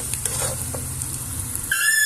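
Chopped onions fry in half a cup of oil in a pan with a steady close sizzle, and a spoon stirs and scrapes through them. A brief sharper hiss rises near the end.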